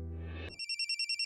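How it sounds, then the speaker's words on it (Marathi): A mobile phone ringtone breaks in after a low tone fades, chirping in quick, evenly spaced electronic pulses, clear and fairly close. "तुमचा फोन वाजतोय"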